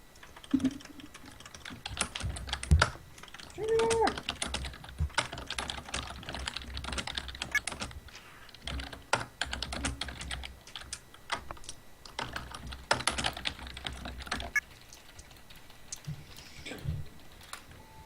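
Hard typing on a computer keyboard, a fairly close run of sharp irregular key clacks in quick bursts with brief pauses, with a few faint tonal blips in between and no talking.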